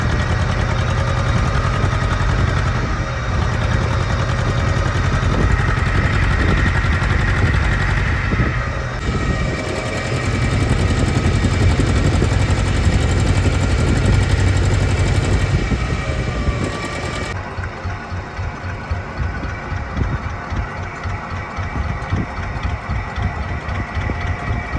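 A fishing boat's engine runs steadily at sea, a continuous loud low drone with a rhythmic thrum that holds for the whole stretch and shifts in tone partway through, with no talking.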